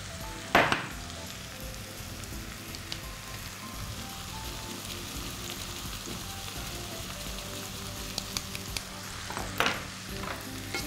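Vegetables are stirred in a pot with soft, continuous sizzling and scraping, close but fairly quiet, with a couple of sharper utensil knocks near the start and end.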